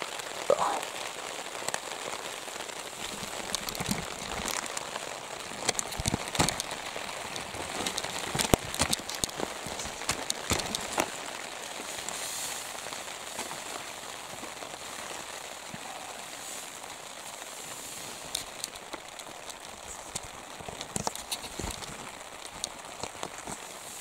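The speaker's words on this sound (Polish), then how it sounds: "Nie wiem, czy słychać, że znowu pada, ale pada." Steady rain patters on a hard shelter covering overhead in a forest at night, with scattered louder drops and crackles through the shower, no voices.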